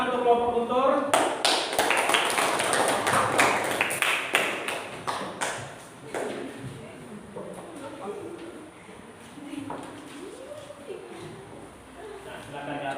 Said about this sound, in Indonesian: Baik, tepuk tangan untuk kelompok Guntur